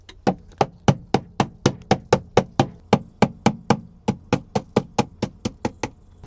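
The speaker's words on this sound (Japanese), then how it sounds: "もうこれぐらいだったらハンマーで殴ったら治りそうですね" A hammer strikes rusted, bent metal on an old camper van repeatedly in a fast, steady rhythm, over twenty sharp ringing blows in quick succession, close and loud.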